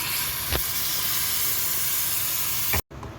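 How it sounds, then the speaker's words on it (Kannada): Water poured into a hot pan while cooking dal khichdi gives a steady, loud steamy hiss and sizzle that carries on without a break for about three seconds, then stops abruptly. "ಹಾಗೆ ಒಂದು ಸ್ವಲ್ಪ ನೀರು ಹಾಕಿ ಚೆನ್ನಾಗಿ ಕುದಿಸ್ಬೇಕಿದೆ"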